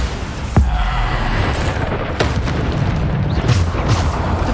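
Explosive blasts from the Bombarda spell in the Hogwarts Legacy video game, with a few sharp booming bursts over a dense, continuous rumble of game sound and no talking.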